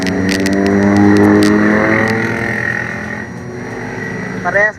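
A Kawasaki Z1000 motorcycle engine revs loudly close by, its rising and falling harmonic whine holding for a few seconds before easing off, with brief voices near the end.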